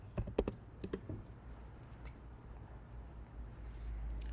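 Someone types on a computer keyboard while searching for stacked teacups in Cricut Design Space: a quick burst of close, crisp key clicks at the start, then a few scattered taps, fading into a quiet, low background hum.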